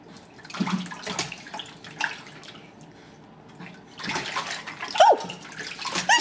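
A baby splashing water in a bathtub, heard as close, irregular splashes and sloshing in two busy bursts separated by a quieter pause.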